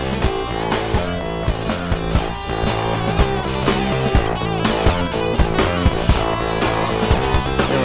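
Dense music with a punchy drum beat plays through a SurgeTide compressor, its surge rate slowed even further. The level moves in slow waves under steady rhythmic hits, with no talk.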